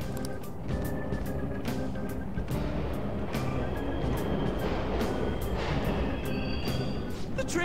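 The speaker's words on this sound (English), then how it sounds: "The trains are totally running." Subway trains rumble through an underground tunnel in Persona 5 Royal, a steady loud roar with rolling low rattle and repeated clacking transients throughout, no voices over it.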